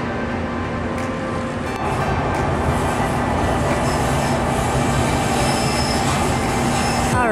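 A rail transit ride heard from inside the train car, with a loud constant rumble, rhythmic wheel clatter and high squealing from the wheels on the track, continuous throughout with no talking.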